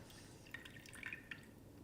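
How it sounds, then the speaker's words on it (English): Freshly squeezed lime juice drips and trickles into a saucepan of honey syrup, a few faint liquid plips and splashes over a quiet kitchen background. "we're going to add in our squeezed lime"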